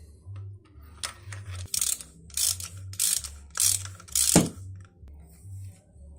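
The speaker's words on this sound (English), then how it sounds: "So I prepared the wrench with the extender and this socket." Ratchet wrench with an extender and socket turning a spark plug out of an Audi TT Mk2 engine, several bursts of rapid clicking ratchet strokes close up, with a low mechanical hum in between.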